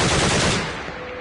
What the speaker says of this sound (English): For example, the sound of a gunshot.